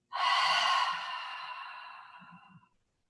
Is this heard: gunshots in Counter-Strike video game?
no